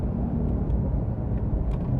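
A Porsche Carrera S with a non-turbo, two-wheel-drive setup is held above 4,500 RPM while driving. Its engine makes a steady, loud, close drone with a dense low rumble and no talking.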